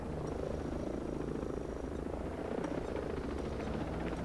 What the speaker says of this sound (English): Where is this enemy chopper?